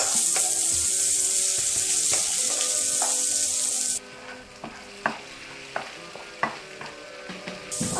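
Onion and garlic frying in oil for Chinese chicken noodles: a loud, steady sizzle that drops in level partway through, with scattered stirring scrapes and taps on the pan.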